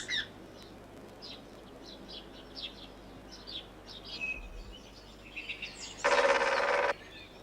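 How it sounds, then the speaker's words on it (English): A great spotted woodpecker drums in a garden, one loud, rapid, buzzing burst lasting under a second, after scattered chirps and short bird calls. "It's the drumming of the great spotted woodpecker."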